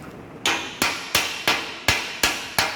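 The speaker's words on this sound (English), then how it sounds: "So now we want to remove the slag from the workpiece. So we are using the chipping hammer." Chipping hammer striking slag off a welded steel T joint in a welding lab: seven sharp metallic knocks at a steady, fairly quick rhythm, close and clear with no talk.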